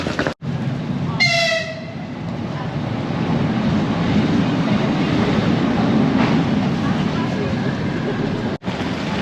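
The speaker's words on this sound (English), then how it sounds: "Okay, the train has arrived." A train rumbles steadily alongside a platform in Kazan, Russia, with a brief horn blast near the start and a constant roar of wheels throughout.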